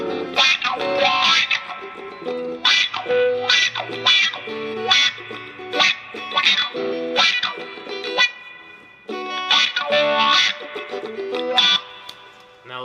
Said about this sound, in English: Now I'm going to use the wah, everything, no fuzz, and just buffer.